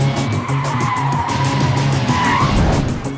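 A car's tires squeal and skid loudly as it is driven fast, a sustained screech over a steady engine roar for a few seconds, with no talking.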